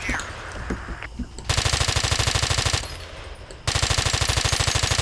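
Automatic weapon fire in Battlefield 2, rapid rhythmic bursts of gunshots in two long sustained volleys separated by a quieter gap with distant shots and faint background noise.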